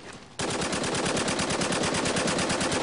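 Sustained automatic gunfire from the Spec Ops: The Line video game erupts after a brief quiet start, rapid continuous bursts hammering loud and close for nearly three seconds.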